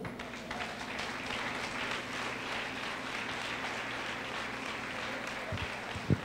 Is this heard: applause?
yes